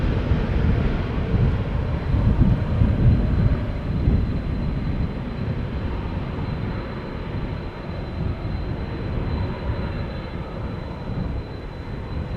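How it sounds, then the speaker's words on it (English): A KLM jet airliner departs Amsterdam Schiphol for Stockholm, its broad engine roar swelling early and then holding as a steady, somewhat distant rumble. "We're watching the departure of KLM flight 1219 to Stockholm."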